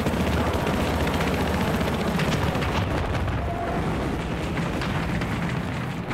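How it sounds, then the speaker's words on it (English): Battlefield 4 gameplay with a U.S. attack helicopter: dense, continuous rotor roar with rapid bursts of gunfire and explosions, loud and chaotic throughout. "I'm in the attack helicopter on the U.S. side"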